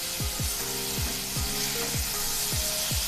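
Tomatoes and onion stirred with salt in a pan for tomato soup: a steady sizzle under repeated rhythmic scrapes of a spoon, about two strokes a second, close and fairly loud, with no voices.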